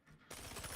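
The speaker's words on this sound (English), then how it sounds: "Our enemy's firing on us." Enemy gunfire in a video game, a brief rapid burst of automatic shots cutting in suddenly after a quiet moment, close and harsh.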